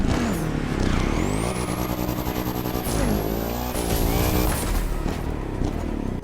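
An upgraded car engine in a video game revved up to the redline, a loud rising and falling mechanical whine with a high-pitched whistle held over it, heard alone without talking.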